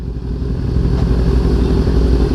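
Honda CB650R naked motorcycle with an inline-four engine and four exhaust outlets, idling or running steadily nearby in a continuous low rumble for a couple of seconds with no talk.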